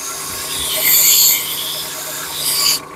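Wood is sanded with 150 grit sandpaper, a close, loud, rasping hiss that swells and fades over a few seconds under a steady hum, then cuts off abruptly.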